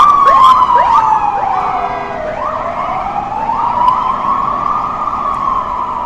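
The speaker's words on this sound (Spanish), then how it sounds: "Es un furgoncito, un camioncito amarillo. Es una ambulancia." An ambulance siren wails loudly and steadily nearby on Gran Vía in Madrid, its pitch sweeping down and back up over a constant hum of traffic.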